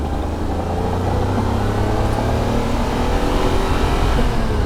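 A Jaguar E-Type V12 engine revs steadily and strongly through its power band, a deep sustained roar building under continuous load, close and loud without any talking.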